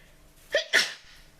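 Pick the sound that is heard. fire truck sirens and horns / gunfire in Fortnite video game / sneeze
sneeze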